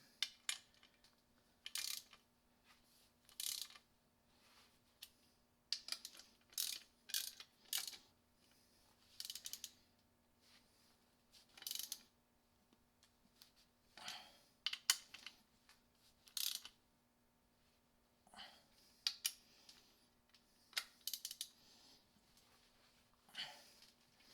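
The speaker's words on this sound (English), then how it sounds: "So we'll go ahead and tighten up these 2 bolts, and these are actually a 13mm head." A ratchet wrench tightens two 13mm bolts while a winch is installed on a Honda Pioneer 1000 UTV, faint bursts of rapid clicking with pauses between, a low hum underneath, no talk.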